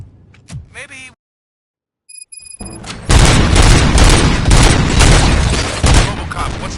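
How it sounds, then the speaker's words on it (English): Gunfire in the RoboCop: Rogue City video game: after a quiet gap, a burst of loud booming shots erupts and keeps going as a dense, sustained barrage, with brief game sounds before it. "Gunshots? What's going on?"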